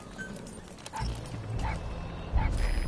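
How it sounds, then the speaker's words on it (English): A wild dog pup in Metal Gear Solid 5 gives several short, close yips and barks in a quick series, over the background noise of the game. "That wild dog pup. He's a tough little guy."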